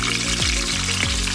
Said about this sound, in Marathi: लालसर होईपर्यंत परतून घेऊया जरा।